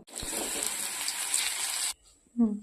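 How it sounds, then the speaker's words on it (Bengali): Besan-coated okra (bhindi) fries in hot oil, a loud, steady sizzle that runs close up for about two seconds, then stops abruptly, followed by a short low clatter. "এখন নেব ভেজে, এটা পুরোটা ভেজে নেব।"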